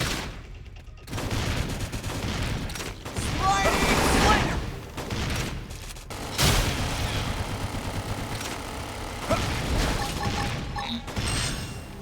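Video game gunfire in a Xenoblade Chronicles X battle, with rapid bursts of shots, mechanical clatter and booms that surge and drop and recur, mixed with voices and game effects.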